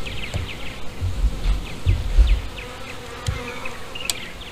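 Dense, close buzzing of honey bees around an open hive with a feeder and frames being expanded, a continuous drone with individual bees whining past the microphone.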